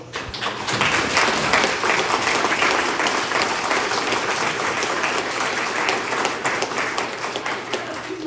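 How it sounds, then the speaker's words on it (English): A large audience at a building dedication gives sustained, dense applause, a steady wash of many hands clapping loud and close for several seconds without letting up. "So if we can give them all a round of applause."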